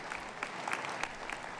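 A congregation applauds during a televised Christian deliverance service. Brisk, continuous clapping with individual sharp claps poking through runs for under two seconds.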